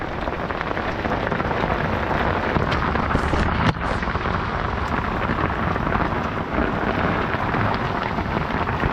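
Heavy, steady rain pours down continuously onto plants and trees, with a dull rumble of thunder mixed in; no voices.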